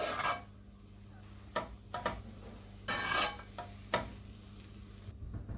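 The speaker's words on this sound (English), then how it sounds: "I'm going to toss in the egg that I cooked earlier. Combine everything together." Cooked egg being tossed and combined into chicken fried rice in a pan, with quiet scraping and stirring, a few sharper clinks of a utensil against the pan at irregular moments.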